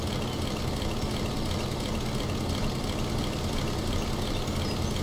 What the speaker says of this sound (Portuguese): O ruim do Farmer aqui, né, velho? Que o ronco do motor é um pouco bugado.